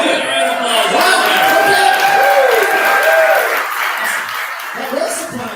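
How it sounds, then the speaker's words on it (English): A live award show audience claps for a winner, with cheering and chuckles mixed in. A voice talks over the applause at moderate loudness. "all right, everybody give it a round of applause"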